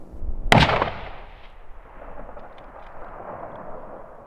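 A single sharp rifle shot fired from a bipod-rested gun on a cliff during a spring bear hunt, loud and close, followed by a long rolling echo that fades across the open terrain.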